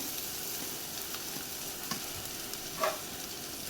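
Tomato and masala sauté in a pan for a fenugreek and garlic dish, giving a faint steady sizzle with light spoon scrapes and one brief clink near the end.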